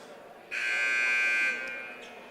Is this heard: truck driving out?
no